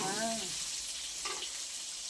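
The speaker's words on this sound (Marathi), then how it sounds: "आई वांगे तळायली तेलात" Brinjal sizzles and crackles steadily in oil close by, with a brief voice at the start and a faint clink partway through.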